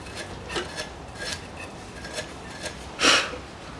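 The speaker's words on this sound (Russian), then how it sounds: "Чищу скобы." Scraping and rasping from cleaning the rear brake caliper brackets of a 2015 Mercedes-Benz V250 Bluetec 2.2, heard as soft intermittent scrubbing with one louder scrape near the end.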